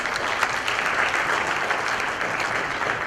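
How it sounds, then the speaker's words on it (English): Audience applause at a tech conference presentation in Nepal, a dense steady clapping from a large crowd that carries on evenly throughout with no talk over it. "So let's welcome him with a huge round of applause"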